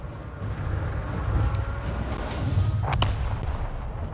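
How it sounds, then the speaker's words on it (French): A video game explosion rolls out as a sustained, loud, low rumble with crackling debris that swells slightly over a few seconds and stays steady throughout, with no one talking over it. "Regardons l'explosion."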